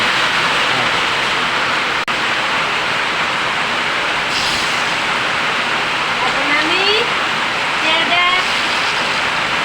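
Cumin seeds sizzle in hot oil in a kadai, cooked as the base for a rohu fish curry with taro stems. A dense, loud, continuous hiss carries through, with a few faint chirps over it.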